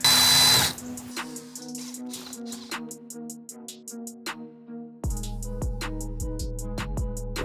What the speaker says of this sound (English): I'm gonna go ahead and drill holes in each 4 corners